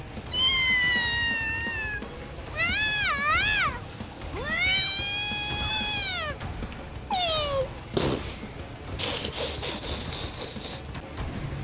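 A cartoon tiger character in the kart racing game Crash Team Racing Nitro-Fueled meows in several drawn-out, wavering calls, followed by harsher noisy bursts, loud and up close with no talk.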